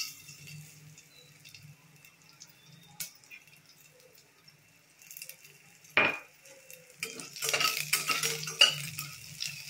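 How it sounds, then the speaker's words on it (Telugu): Tempering spices for sambar sizzle in hot oil, soft and low at first, then a sharp metallic clink and a louder, crackling burst of frying with stirring scrapes toward the end. "కొంచెం వేగాయి కదా, ఇప్పుడు తాలింపు దినుసులన్నీ వేసేసుకున్నాం."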